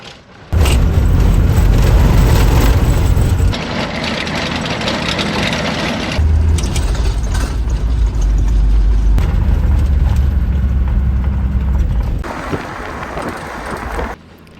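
A loud, rough engine roars from inside a car cabin, a heavy low drone that shifts in pitch as it revs and settles.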